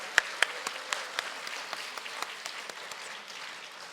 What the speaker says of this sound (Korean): 다시 한번 격려의 박수 하겠습니다.